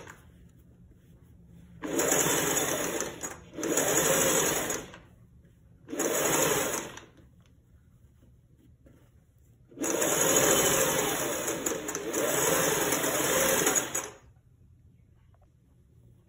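A sewing machine stitches around the curved back neck patti of a blouse, running in several separate bursts of steady whirring, close and clear, with quiet pauses between.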